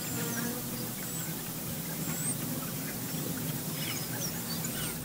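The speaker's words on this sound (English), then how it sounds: "There's a bunch of birds on the tower and on the guy wires." A flock of birds perched on a radio broadcast tower and its guy wires chirp and squeak in a dense, overlapping chorus against a noisy outdoor background, fairly faint and continuous throughout.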